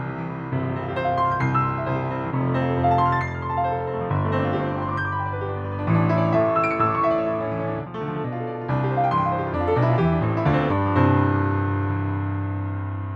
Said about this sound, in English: which is called Elegance, which is a first order Ambisonics piano